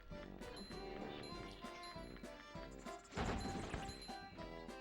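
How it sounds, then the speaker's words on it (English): Wooden boxes being smashed in The SpongeBob SquarePants Movie video game, a run of sharp, close crashes and thwacks over game music, with a heavier breaking impact near the end. "I like smashing boxes."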